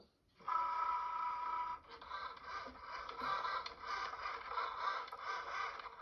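A Cricut Joy cutting machine cuts iron-on vinyl with a faint, continuous motor whir and light scraping that shifts slightly partway through, with no voices.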